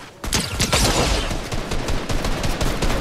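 AK rifle fire in Fortnite, a loud, close burst of rapid automatic shots rattling steadily for about three seconds after a brief quiet start.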